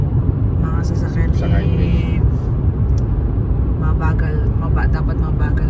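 Cars drive along a snowy road during heavy snowfall, giving a constant low rumble of tires and engines with passing vehicles swelling and fading, while voices talk over the traffic throughout.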